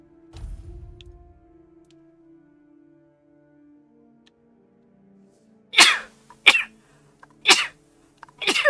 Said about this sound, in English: Why am I sneezing?